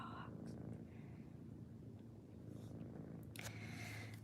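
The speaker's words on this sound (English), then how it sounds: "He's purring. What a purr" A soft, steady low purr runs throughout, close and quiet, with faint light rustles on top.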